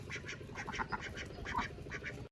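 Ducks quack in short repeated bursts, several birds nearby but fairly faint, in an outdoor setting without talking.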